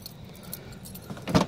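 Car keys for a Mitsubishi Galant with a 4G67 engine jangle briefly, a soft clinking that rises to a sharp metallic rattle near the end, close and alone.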